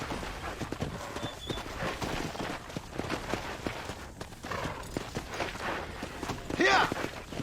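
Horse hooves clip-clop at a steady walking rhythm on a ranch in the Red Dead Redemption video game, with a short whinny near the end.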